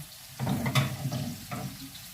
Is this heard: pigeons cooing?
no